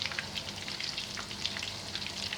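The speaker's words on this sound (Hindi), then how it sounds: "डीप फ्राई कीजिएगा" Chandan kebabs deep fry in oil over a low flame, making a dense, close crackling sizzle with rapid bright pops that continues steadily and loud throughout, with no talking.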